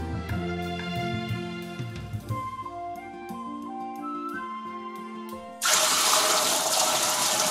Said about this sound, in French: On va mettre de l'eau du robinet dans l'aquarium.